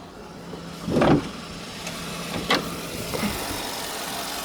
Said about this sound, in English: I'm gonna pop the hood and show the engine.